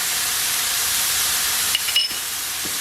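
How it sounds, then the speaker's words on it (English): Kibbeh filling of onions and baharat sautéing in a pan gives a steady, loud, broadband sizzle that barely changes throughout, with a few faint clinks near the end. "you saute it with the baharat"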